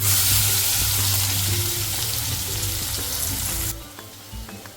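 Sliced onions hit hot oil for a dry fish curry and crackle loudly in a close, dense sizzle that suddenly drops away near the end, leaving a faint quieter hiss.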